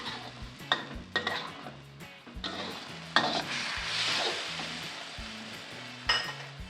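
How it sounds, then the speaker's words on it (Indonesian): Oyster sauce is stir-fried in a wok, with rhythmic spatula scrapes and clanks over a close, crackling sizzle. "Nah, ini kita tumis dulu ya sampai saus tiramnya matang."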